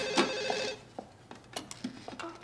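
A telephone rings loudly for a moment in a scene from a French-language film, then cuts off. Faint clicks and rustling follow in a quiet room.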